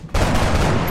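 A loud, close burst of gunfire in XCOM, sustained automatic fire that starts abruptly and fills the whole moment.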